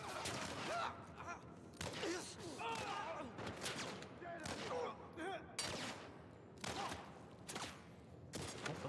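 Repeated gunshots in The Last of Us Part I ring out as sharp, spaced cracks every second or so, interleaved with shouting voices and combat noise at moderate level.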